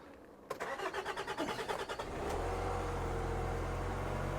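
Nissan X-Trail 2.2 dCi T30 from 2003 with an accelerator fault code P0120 that will not rev up: a starter motor cranks rhythmically for about a second and a half, then the diesel catches and settles into a steady, close rumble.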